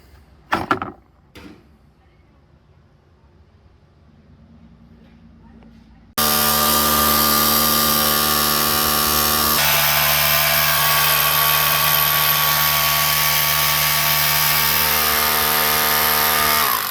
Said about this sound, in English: And this is my hammer drill.